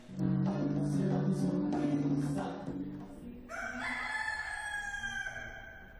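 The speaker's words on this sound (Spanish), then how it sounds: "Estas gallinas campando a sus anchas por el campus universitario de la Universidad de La Laguna han revolucionado las redes sociales." Free-roaming hens and a rooster on the Universidad de La Laguna campus: a rooster crows loudly at first, followed by softer clucking and higher calls from the hens.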